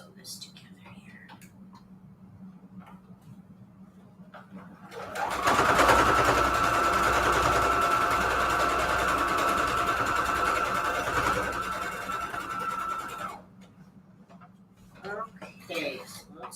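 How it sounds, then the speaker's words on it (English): Sewing machine stitching fabric scraps together for patchwork junk journal covers, a loud steady whirring run of several seconds, with quiet talk and handling sounds before and after. "Let's sew this together here."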